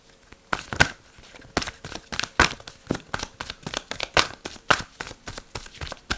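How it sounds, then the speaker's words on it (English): An oracle card deck is shuffled by hand in a run of quick, crisp riffling bursts with brief pauses between, close and fairly loud, with no talking. "I'm gonna shuffle 2 more times."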